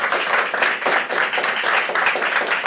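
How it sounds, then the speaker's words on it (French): A crowd applauds, with dense, steady clapping from many hands close by, a bright continuous patter of overlapping claps with no voices over it. "Et déjà juste pour ça, je les applaudis"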